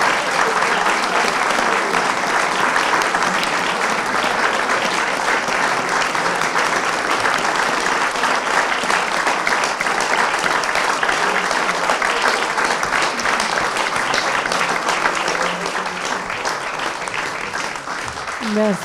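An audience claps warmly at the close of a talk, giving dense, continuous applause that stays loud for nearly twenty seconds.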